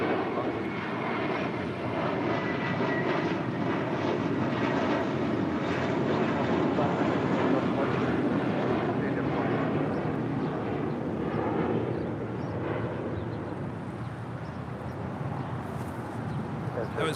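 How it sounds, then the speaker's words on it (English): A JetBlue Airways Airbus A321 takes off at LAX bound for Miami, a loud sustained jet engine roar throughout with wind noise and a voice talking underneath. "That was JetBlue Airways Flight 2885 heading to Miami, Florida at A321."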